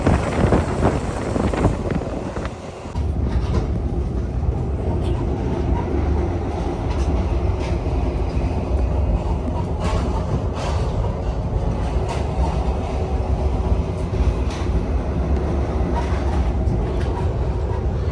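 An Alaska Railroad train rolls along, heard from the open-air car as a loud continuous rumble and clatter of wheels on track, mixed with wind rushing over the microphone.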